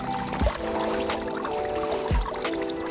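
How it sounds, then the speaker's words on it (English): Water pouring and gurgling into fishing waders during night surf fishing on Long Island, a continuous splashing trickle with two brief low thumps, close and fairly loud, with no talk. "And I just got water in my waders."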